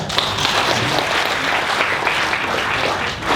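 Sustained audience applause at an Indonesian labour ministry event, a dense steady wash of many hands clapping, loud and continuous throughout with no pause.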